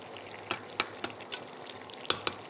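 Small puti fish frying in a pan with chopped tomato just added, a low continuous sizzle broken by several sharp spits and crackles at irregular moments, close and fairly clear.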